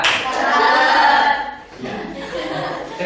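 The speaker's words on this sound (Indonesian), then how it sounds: "Tepuk 1, 2, 3, 1, 1, 1, 2, 3, 1, 2, tepuk 1, 3." Students in a classroom clap along in a counted rhythmic pattern, a dense burst of group handclaps that swells then briefly dips before resuming, with some chuckling mixed in.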